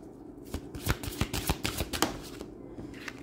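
Tarot cards being shuffled during a reading, a quick run of crisp riffling flutters and soft slaps, close and fairly quiet, with no talking over it.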